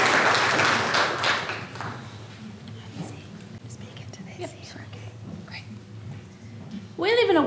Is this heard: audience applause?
yes